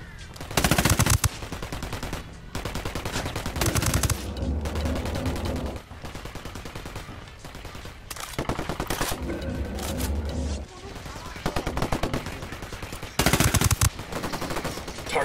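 Gunfire in Ghost Recon Wildlands: repeated loud bursts of automatic rifle fire, some long rattling volleys and others short, broken by brief gaps, with distant shots and game sounds between them.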